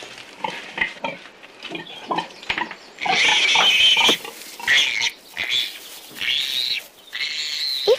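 A pig grunts and snorts in a series of irregular bursts, close and fairly loud, some squealing and snuffling between quieter pauses.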